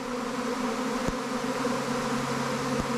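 A swarm of honeybees pours out of a hive in a steady, dense buzzing drone that fills the whole stretch, close and loud with no voices.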